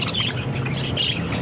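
Caged birds squawk and chirp together in a dense, close chorus of overlapping calls, heard alone without talking.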